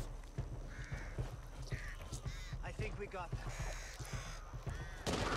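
Crows caw several times in the zombie shooter game Back 4 Blood, with harsh repeated calls mixed with in-game footsteps, all under a player talking.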